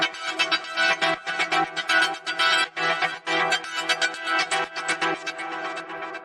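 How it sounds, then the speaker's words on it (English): A stabby, ravey synth preset called JMJ Days BT from SynthMaster One plays rhythmic chord stabs in a deep house or future house style, bright and busy, with no voices over it. "it's just a straightforward kind of stabby, ravey preset"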